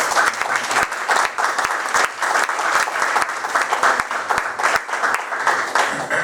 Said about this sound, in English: I'd like to give a big round of applause to Senator Pacheco for organizing this